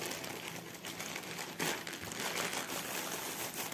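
Plastic packaging bags for a diamond painting kit crinkle and rustle steadily as they are unwrapped close by, with a slightly louder burst of crumpling partway through and no talking.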